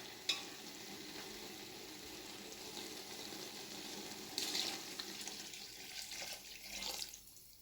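Water pours and splashes steadily into a pot of rice for beef keema biryani over a faint sizzling background, with a brief clink at the start.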